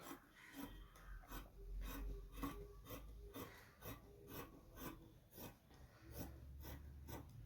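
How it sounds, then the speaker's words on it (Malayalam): Scissors cut through saree blouse fabric in a quick, regular series of soft, close snips, roughly a dozen over several seconds, with no speech. "ഞാനൊന്ന് കട്ട് ചെയ്തെടുക്കട്ടെ കേട്ടോ"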